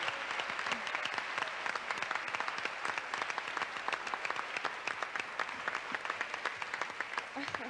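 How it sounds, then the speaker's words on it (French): Studio audience on a TV game show applauding contestant Janine, dense continuous clapping at a steady level throughout, with a voice faintly underneath. "On l'applaudit"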